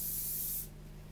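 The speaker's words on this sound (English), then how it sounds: "This is the John Frieda Brilliant Brunette Fix and Shine hairspray." A John Frieda Brilliant Brunette Fix and Shine hairspray can gives one steady hissing spray burst, close and loud, that cuts off partway through and leaves a quiet room.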